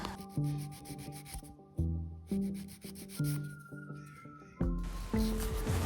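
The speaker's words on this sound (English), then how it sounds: "So I'm just filing over the nail." Repeated rasping strokes of a nail file across a builder gel nail, steady back-and-forth scraping close by, with tonal background music playing throughout.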